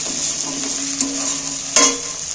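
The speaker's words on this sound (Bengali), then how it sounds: "এটা পেঁয়াজের সঙ্গে মশলাটা কষবো" Spices stir-fried with onion in oil for a village-style chicken curry, giving a close, steady sizzle with a couple of brief stirring knocks.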